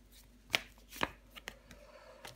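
Tarot cards laid down one at a time on a table during a reading, giving three or four soft, close slaps and brushes spaced about half a second apart, with no talk.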